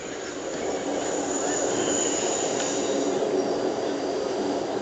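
A train rumbling through a series of back-to-back tunnels, a loud continuous roar with a faint metallic whine of wheels on top.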